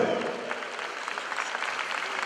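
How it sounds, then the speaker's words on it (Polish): Brief, moderately loud clapping from a gathered audience for young players of a youth football academy, a steady patter of hands with no talk over it. "Ogromne brawa dla tych młodych piłkarzy."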